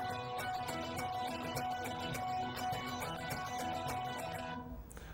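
Electric guitar playing the riff without delays, with steady rhythmic muted scratching between ringing notes, close and even, ending with a fading chord.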